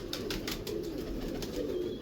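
Soft, low pigeon cooing rolls on steadily beneath a constant wash of background noise, faint and somewhat distant.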